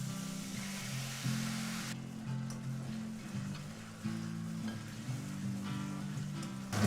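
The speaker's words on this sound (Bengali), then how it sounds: "এর মধ্যে দিয়ে দেবো এবার পেস্ট করা আদা" Ginger paste going into hot oil with whole cumin seeds and bay leaf sets off a steady, close sizzle. Fresh bursts come as more paste lands, and a low hum from the cooking runs underneath.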